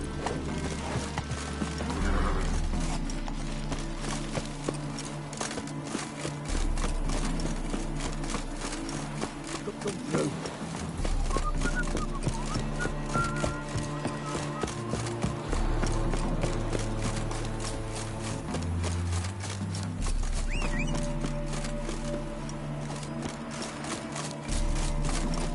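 Roach, the horse in The Witcher video game, gallops in a steady, continuous clip-clop of hooves, close and prominent, with music and occasional voices underneath.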